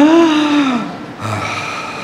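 A Quran reciter draws a short, audible breath between verses, right after a held, falling vocal tone fades out; the inhale is close and clear.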